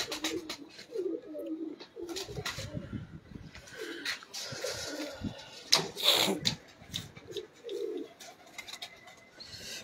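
Fancy pigeons (lakhy and sharmely breeds) coo repeatedly in soft, rhythmic bursts close by, with someone talking intermittently and some handling and rustling noises.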